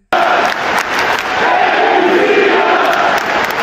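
A packed wrestling arena crowd roars and cheers for John Cena on his final appearance as he stands silently in the ring, a dense, loud, sustained wall of cheering and chanting from thousands of fans.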